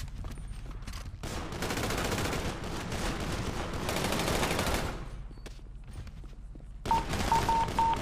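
Rapid bursts of automatic gunfire in a GTA 5 roleplay bank shootout with police, loud and sustained across most of the clip, with a brief lull before a final burst.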